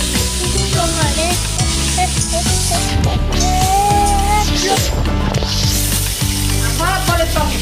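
Green chillies sizzle loudly in hot oil alongside frying shoal fish, a dense crackling hiss that runs continuously with scattered scraping and clattering from stirring.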